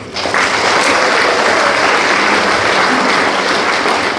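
Loud, sustained audience applause breaks out at a citizens' forum on a Busan independence movement memorial park, many hands clapping in a dense continuous roar that holds steady throughout.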